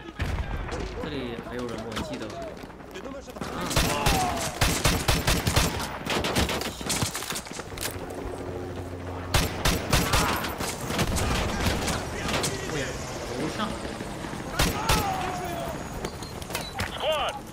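Sentry gun fire in Call of Duty: Modern Warfare 2 (2020 remaster), rapid sustained automatic bursts mixed with heavy battle noise and shouted voices, loud and close throughout.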